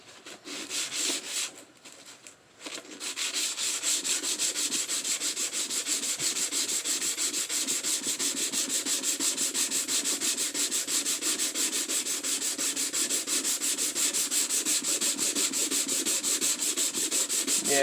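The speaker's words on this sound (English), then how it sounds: "We're gonna try sanding this thing." Sandpaper of 220 grit is rubbed across a Mk4 Golf headlight lens in a fast, steady back-and-forth scrubbing that runs on after a few short strokes and a brief pause.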